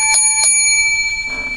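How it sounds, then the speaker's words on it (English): Bells ring in two bright metallic strikes close together, their tones ringing on and slowly fading, loud and near. "Seven lucky bells"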